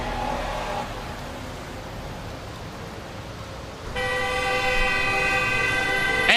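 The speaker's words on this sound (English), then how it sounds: "it's a flyby horn" A car horn blares with a steady, sustained tone that cuts in abruptly halfway through and holds loud and close until the end, over a dull background rumble.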